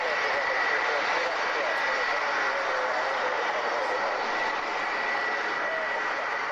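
Engines of a Handley Page Victor jet bomber scream in a loud, sustained, steady roar with a high whine running through it, filling the whole stretch without pause.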